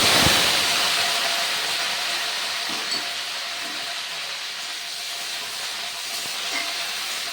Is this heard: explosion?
no